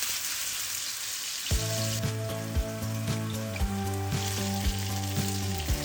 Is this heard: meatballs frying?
yes